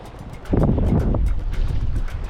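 Strong wind buffets a small fishing boat out on the sea during squid fishing near Ko Sichang, a loud, steady, rushing roar of wind noise with no speech.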